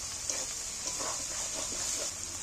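Ginger, garlic and chili spice paste frying in oil in a pan for jackfruit curry, a continuous close hiss and sizzle with faint soft stirring movements underneath.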